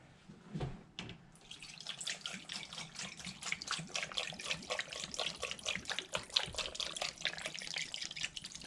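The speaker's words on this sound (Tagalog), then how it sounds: "I'll put water." Water is poured into a pot of pork for pressure cooking, a continuous close splashing stream that starts with a couple of knocks and runs for several seconds.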